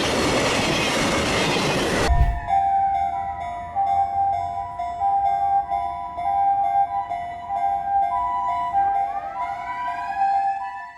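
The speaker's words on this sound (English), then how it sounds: "A fallen tree got caught under a CSX train and dragged at speed" A CSX train races past at speed dragging a fallen tree, with a loud rushing roar up front, then steady rumbling and clatter beneath blaring horn tones that bend in pitch.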